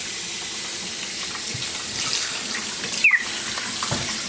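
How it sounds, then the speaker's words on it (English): Tap water runs steadily into a bath while a baby monkey is rinsed, a close, even splashing hiss with a brief squeak near the end. "Let me rinse his butt, Solly."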